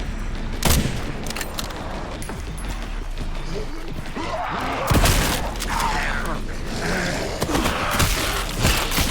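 A mortar zombie firing explosive shots in a video game, heavy booms and crackling bursts over a dense busy background of game noise, with talking mixed in.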